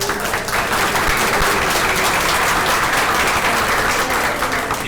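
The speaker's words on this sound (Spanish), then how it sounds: "Vamos a recibirlo con un fuerte aplauso" An audience gives a speaker a loud, dense welcoming applause, a continuous wash of many hands clapping throughout, with no voices.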